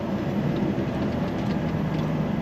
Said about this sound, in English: So I'm trying not to use my brakes as much. I'm just building the revs up